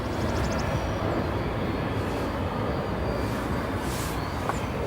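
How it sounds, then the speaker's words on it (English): A FedEx aircraft taxis across the runways at O'Hare airport, a steady broad engine roar and rumble that holds at a constant level throughout. "FedEx now going to taxi across runway from this side, 10 left and 10 center"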